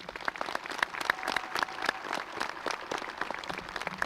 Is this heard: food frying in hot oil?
no